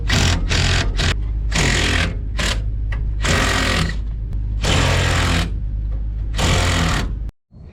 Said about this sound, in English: Now we're gonna loosen these hold down clamps.